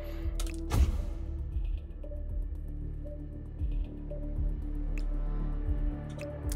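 Water splashing and dripping from a shot faucet in the video game Hitman 2, a bright burst near the start followed by scattered drips and low trickling sounds.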